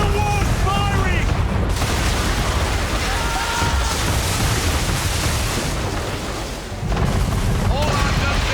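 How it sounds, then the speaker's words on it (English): A man-of-war warship fires its cannons in Assassin's Creed III during a naval battle, with loud, heavy booms and rolling rumble over dense battle noise and spray. Voices shout briefly over the din. "Man of war's firing!"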